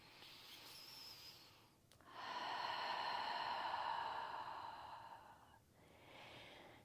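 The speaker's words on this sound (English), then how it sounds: "Coming into Ujjayi breath, inhale through the nose, exhale through the nose or the mouth" Ujjayi breathing through the nose: a short breath, then a long, steady, hissing ocean-like exhale lasting several seconds, followed by another breath, close and quiet with no talking.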